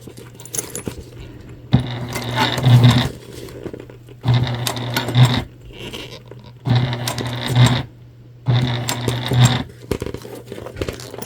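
A sewing machine top stitches a fabric candy bag in four bursts of rapid mechanical whirring, each a second or two long, separated by short pauses with light fabric rustling.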